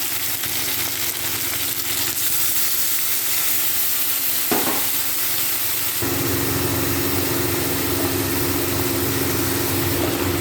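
A paste of ginger, onion, garlic and dried chilli sizzles steadily in a pan for mutton curry, with a brief stirring scrape partway through and the frying continuing loud and close afterward.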